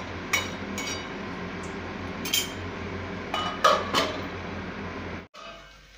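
Spoon stirring boiled potatoes and pumpkin with sugar in a cooking pot, giving a few scattered clinks and scrapes against the metal over a steady low background hum, ending in a brief lid-like knock.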